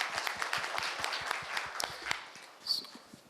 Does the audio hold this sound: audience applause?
yes